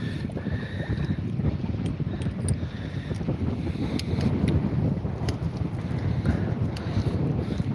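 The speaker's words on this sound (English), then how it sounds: "See, the wind's actually cranking again." Strong wind on the open ocean around a houseboat, a steady, heavy rumbling roar against the microphone with faint creaks and knocks scattered through, continuous and close.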